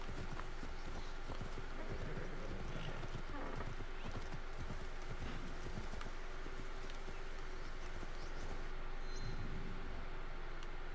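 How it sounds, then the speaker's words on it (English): A horse gallops through a scene in Assassin's Creed Shadows, its hooves drumming in a steady, fast clip-clop that carries on throughout, with a snort or whinny near the end over constant ambient game sound. "Get my horse."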